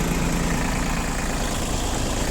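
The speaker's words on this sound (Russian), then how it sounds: "Там послушать, как работает двигатель." Iseki CL19 compact four-wheel-drive tractor with loader, diesel engine idling steadily and evenly, a continuous low rumble close by with no other sounds.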